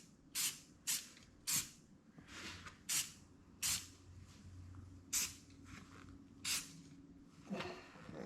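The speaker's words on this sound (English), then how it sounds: "And we're just going to spray." Short hissing bursts of a spray paint can, about ten quick sprays in an uneven rhythm, close and fairly loud over a low background hum.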